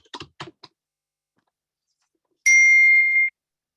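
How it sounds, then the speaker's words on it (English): A phone call alert sounds during an online community police review commission meeting: a single sustained electronic ding tone, clear and fairly loud, following a few brief keyboard-like taps, with no talk over it. "Okay, I'm getting a phone call."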